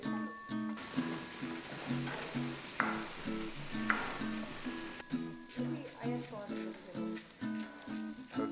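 Meat sizzles on a hot braai grill as it cooks outdoors, a continuous crackling fry heard close, while people talk and sing faintly in the background.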